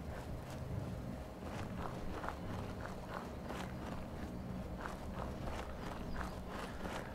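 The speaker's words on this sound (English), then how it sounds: "I hear footsteps." Running footsteps in the video game Fallout 76, a quick steady series of thudding steps at moderate level over a dense rumbling game background.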